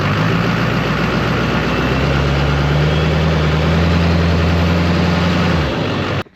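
A Duramax diesel truck engine runs loud and close with a low steady rumble and a gentle rev that rises slightly and holds, then cuts off abruptly near the end.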